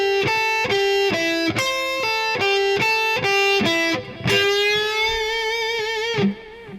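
Distorted rock electric guitar plays a lick with quick pull-offs, a run of repeated sharp picked notes followed by a longer sustained bend-like note that rings out, loud and close with no talking.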